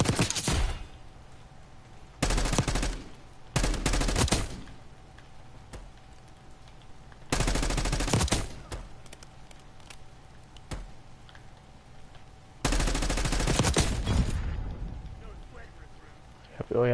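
Bursts of automatic gunfire from the Black Ops 6 beta video game, several loud rapid volleys separated by quieter gaps, with a faint hum between them and a player speaking briefly.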